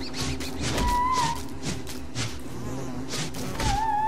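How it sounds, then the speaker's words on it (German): Bees in the video game Don't Starve Together, a buzzing insect drone with pulsing swells and a couple of brief tonal game effects, moderately loud throughout. "Ja, hier ist ein Bienennest."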